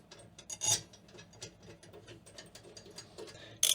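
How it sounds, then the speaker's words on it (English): Bolts on a boat's sea strainer lid being tightened evenly, giving a quiet run of small ratcheting clicks and metallic ticks, then a brief louder burst at the very end. "Being careful not to over tighten and being careful to pull the lid down evenly so we get the good seal on it."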